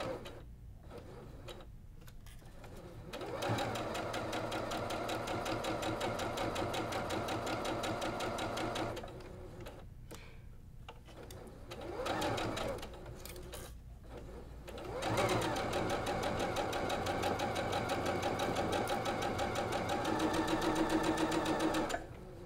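A sewing machine stitches quilt block pieces at close range in three bursts of rapid, even mechanical clatter, separated by short pauses with faint handling sounds.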